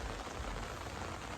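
Heavy rain pours steadily in a village as Cyclone Montha makes landfall, a dense, even hiss with no pauses and no voices.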